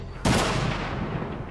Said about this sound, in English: the trebuchet was being eclipsed by a terrifying new long-range weapon, the cannon.